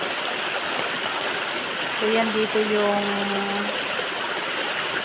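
Water from Lel Falls rushes in a continuous broad hiss, while someone talks over it and a brief tonal hum rises in the middle.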